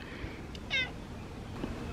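A house cat gives a single short meow against a steady background hum, with no talking.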